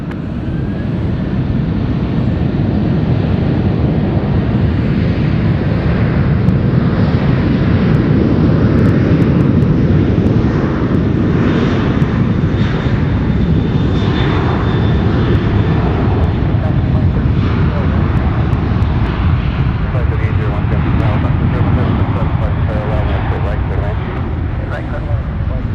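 A Boeing 757 jet at San Francisco airport roars loudly and steadily, the engine noise swelling slightly mid-way, while radio chatter and a voice talk over it.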